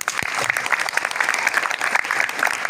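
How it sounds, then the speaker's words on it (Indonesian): Audience applause during a humorous Indonesian religious and national-themed sermon in Bandung, a dense steady patter of many hands clapping throughout, fairly loud and close. "Tepuk tangan."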